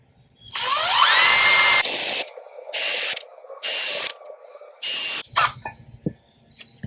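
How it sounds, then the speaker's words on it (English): A power drill with a 3/16 bit bores metal while fitting a filler panel to a BMW R18 B TC Roctane motorcycle: a long whining squeal, then several short loud bursts with pauses between, close by. "then I'll drill it out with a 3/16"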